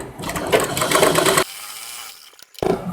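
Close, fairly loud whir of a sewing machine stitching a princess cut lehenga blouse for about a second and a half, then a brief hush and rustling before the motor starts again.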